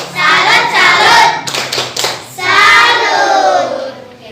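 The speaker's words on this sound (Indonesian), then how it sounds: "kita beri tepuk salut ya untuk kelompok kuning" Children in a primary school classroom clap a rhythmic class salute together, loud nearby claps in patterned bursts with a short pause midway, no one speaking.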